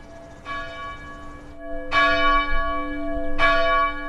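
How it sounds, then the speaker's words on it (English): A bronze church bell rings three times in slow succession, each strike clear and resonant with a long humming decay that overlaps the next. "A bell."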